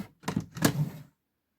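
A sticky wooden drawer in a craft room storage unit is pulled open with a couple of quick scraping, knocking clunks over about a second, close and fairly quiet, followed by silence.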